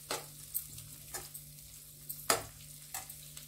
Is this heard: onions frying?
yes